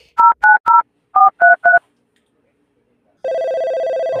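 A telephone number is keyed in: six sharp DTMF beeps in two quick groups of three, a short pause, then a steady tone sounding on the line, all loud and close with no talking.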